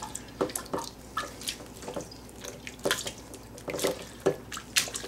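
Water being poured and swished in a bowl while homemade butter is rinsed, giving scattered irregular splashes and drips close by, with no talking.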